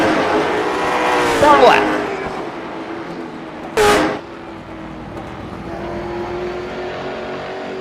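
Late model race cars at Stafford roar past with engine drones that swell and fade as cars pass close by, under steady excited race commentary.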